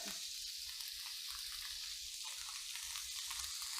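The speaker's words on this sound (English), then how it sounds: "And it's going to spit, guys. Thyme's a little wet. It's going to spit." Duck breast searing in a cast iron pan with wet thyme and garlic, a steady bright sizzle with crackling spits popping throughout, close and alone.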